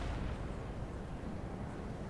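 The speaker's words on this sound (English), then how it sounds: "the earthquake effect when you shoot cannons" Cannon fire in the Napoleon Total War video game, a continuous deep rumbling boom held steady and loud throughout, with no talking.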